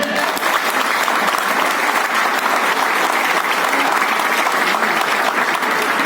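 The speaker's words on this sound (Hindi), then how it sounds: "तालियों में दम नहीं है" Sustained, dense applause from the audience at a felicitation ceremony for the Rajasthani community in Mumbai, loud and even for the whole stretch with no break.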